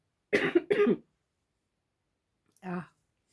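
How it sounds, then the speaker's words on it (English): Two quick, close coughs in a row, then silence before one more short cough. "That's why I'm coughing so much."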